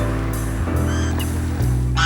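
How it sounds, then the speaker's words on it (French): Geese honk at a lakeside promenade in St Renan, several loud nasal calls in quick succession close by, with steady outdoor background and no speech. "De nombreux oiseaux quémandent quelques miettes aux passants."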